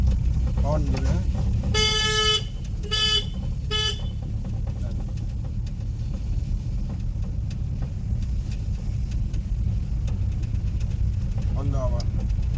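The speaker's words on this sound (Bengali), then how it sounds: "হর্ন দেবে, হ্যাঁ" A car horn gives several short, loud honks in a row while a car is driven slowly on a main road during a driving lesson, over steady road and engine noise, with occasional talk.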